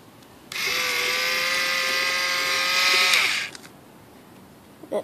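Small electric motor driving a homemade ball mill built from Knex parts, a steady high whine that runs for about three seconds near the listener, then cuts off abruptly, leaving quiet room noise.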